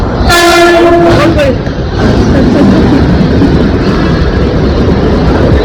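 A train horn blares loudly for about a second, then the heavy rumble of a commuter train rolling in fills the air.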